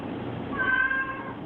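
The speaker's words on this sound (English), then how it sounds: "It's a cat, dummy." A cat gives one drawn-out meow, rising and fading in the middle of a muffled, noisy recording from a scary video, with no talking.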